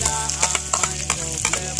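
Onion and garlic fry in a hot pan with a close, continuous crackling sizzle, broken by brief stirring clatter and pops.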